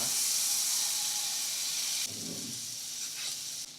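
Butter hitting a hot pan while cooking butter chicken, giving a steady close sizzling hiss that briefly bursts louder partway through, with no talking.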